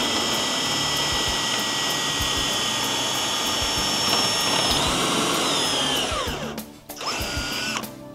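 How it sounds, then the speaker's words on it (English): A power drill bores a pilot hole with a 1/8 inch bit, a loud steady high whine that holds, sags as the bit bites, briefly stops and spins up again. "you're going to want to go ahead and drill a pilot hole with a 1/8 inch drill bit"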